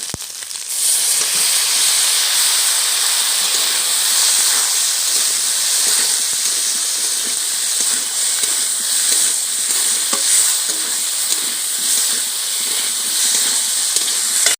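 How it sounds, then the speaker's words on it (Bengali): Fried kuche (eel-like) fish going into a hot pan of oil, producing a loud, steady, close sizzle and hiss that runs continuously without pause, with no talking. "ভেজে রাখা মাছ দিয়ে দিচ্ছি।"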